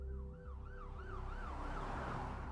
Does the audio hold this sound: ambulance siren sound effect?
yes